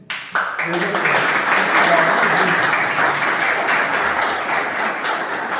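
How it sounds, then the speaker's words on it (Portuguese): Sustained audience applause fills a hall at a Portuguese-language gathering, a dense, steady wash of many hands clapping that starts abruptly and holds loud throughout. "Essas palmas eu transmito ao Onofre"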